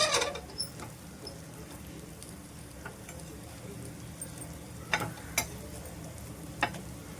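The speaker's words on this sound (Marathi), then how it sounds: "असे सर्व काप मी असे परतून घेते" Slices of breadfruit fry and are turned over in a pan on medium heat, a faint sizzle broken by a few scraping pats and stirs.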